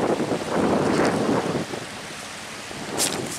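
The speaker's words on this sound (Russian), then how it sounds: "А, ну тут вот ветер." Wind on a sandy shore along the Volga River buffets the microphone in broad, rumbling gusts, strongest early on and easing off, with a brief hiss near the end.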